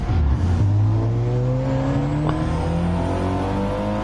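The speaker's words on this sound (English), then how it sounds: "just look how slow Firepower's car is off the start line" Race cars in a PS4 racing game surge away from the start line together, engines revving and rising in pitch through gear changes, loud and close with a pack of cars sounding around.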